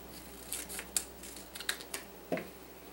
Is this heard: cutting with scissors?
yes